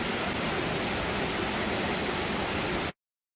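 A steady, broad rush of falling water from the 17-metre Bidulginang Waterfall in Pocheon, South Korea, fills the clip evenly, then cuts off abruptly near the end.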